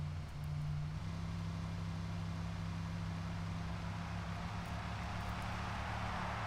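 A car engine in a racing video game holds a steady, low droning hum that does not rise in pitch, heard on its own without voices.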